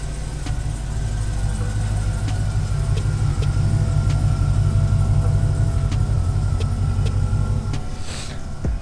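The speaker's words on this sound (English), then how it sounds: "He's pulling his truck out" The LS-swapped C10 pickup truck's V8 engine runs with a steady, close, loud rumble as the truck pulls out, with no talk over it.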